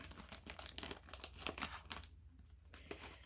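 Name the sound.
opening plastic bag of rice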